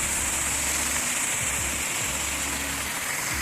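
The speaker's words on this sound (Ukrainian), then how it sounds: "Ось так вода стікає." Water draining over a small waterfall beside ice, a continuous close hiss and splash of flowing water with a low rumble underneath.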